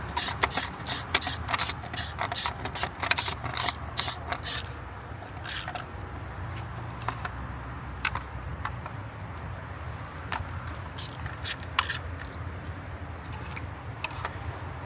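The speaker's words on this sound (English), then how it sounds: "I'm actually using a 1/4 inch ratchet" A 1/4 inch ratchet tightens small screws on the plastic intake manifold of a VW Beetle EA888 engine during an injector harness replacement. Rapid, bright clicking bursts come first, then thin out into sparse, scattered ticks, close up with no talking.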